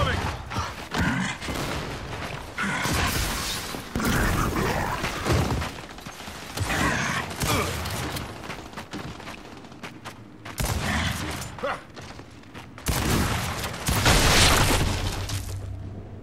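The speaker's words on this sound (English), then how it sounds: "Flashbang incoming!" Gunfire bursts and sharp blasts from a Gears 5 firefight, including a flashbang going off, come in dense repeated volleys across the span, loud and close, with voices talking over parts of the action.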